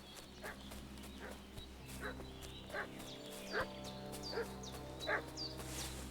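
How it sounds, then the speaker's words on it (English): In the game Kingdom Come: Deliverance 2, a dog barks in a run of sharp yelps about once a second, fairly faint and somewhat distant, over a low steady ambient drone. "What's that dog making such a fuss about?"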